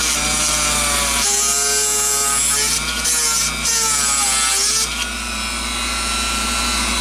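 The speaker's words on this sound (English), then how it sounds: "I don't like drilling into my workbench." Electric drill boring a hole through a twist-lock electrolytic capacitor resting on a piece of wood, a steady whining grind that rises and dips over several seconds with a constant low hum underneath.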